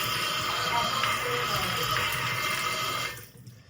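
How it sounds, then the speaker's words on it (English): Water gushes from a see-through mixer in a steady splashing pour, fairly close, and cuts off abruptly near the end. "You can watch the water come out and then it falls."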